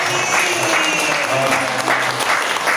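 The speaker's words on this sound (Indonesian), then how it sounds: "Tepuk tangan untuk Pak Heri." A seated audience claps for a presenter at a talk, a brief burst of close, steady applause with faint voices underneath.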